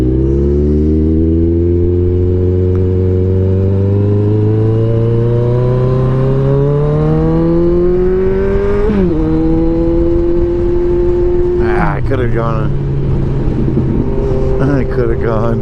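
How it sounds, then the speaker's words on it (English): A 2016 Kawasaki Ninja 1000 motorcycle riding in traffic, its engine note close and loud as it climbs steadily through the revs, drops at a gear change, then rises again, with constant wind rush. "this is just such a great motorcycle. I mean, it's just so great to ride."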